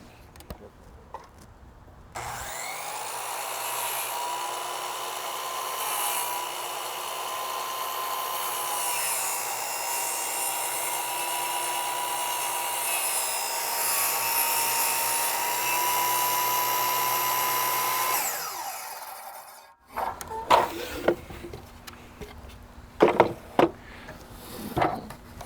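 A power tool cuts along a back bevel in baseboard moulding, a loud continuous whine held for most of the clip before it stops and gives way to scattered knocks and handling clatter.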